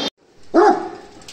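A single short bark from a Great Dane puppy, close and loud, following a brief click, with no talk over it.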